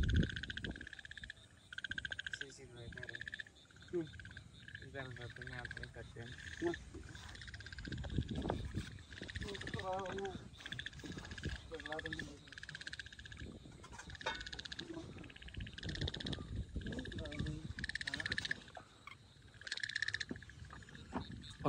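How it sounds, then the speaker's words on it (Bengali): Frogs croak in monsoon floodwater, a dense chorus of repeated, rhythmic calls from several animals at moderate distance, rising and falling over a quiet outdoor background with no talk. "দেখেন বর্ষার পানিতে ব্যাঙের কি সাউন্ড।"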